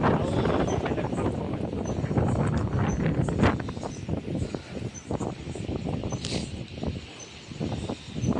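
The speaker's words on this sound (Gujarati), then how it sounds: "ફૂલ એચડી પવન છે દોસ્તો વાવાઝોડું યાર" Strong gusting windstorm over a mango orchard roars and buffets the microphone steadily, a loud rushing storm with faint rustling and a few distant sounds underneath.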